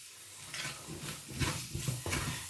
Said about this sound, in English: You can just fry it.